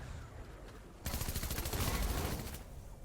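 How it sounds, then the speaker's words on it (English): A machine pistol in Fortnite fires a rapid, continuous burst of shots after a moment of quieter game ambience, loud and close, the stream of shots lasting about a second and a half before easing off. "That player's using a machine pistol."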